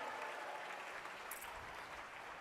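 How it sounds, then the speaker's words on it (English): Steady applause from a large audience at a White House celebration, a dense even wash of clapping heard from a distance, continuing throughout. "Let's give Kamal a big round of applause."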